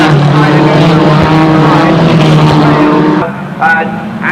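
Formula Talbot race cars in a 1981 race at Brands Hatch, a close pack droning loudly along the straight, engines roaring together before fading, with a commentator talking over them.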